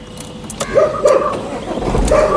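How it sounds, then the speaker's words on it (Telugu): A 2018 Jeep Compass Sportz engine cranks and catches on a single start, then settles into a close idle, with a dog barking nearby. "సింగిల్ సెల్ఫ్లో కార్ స్టార్ట్ అవుతుంది"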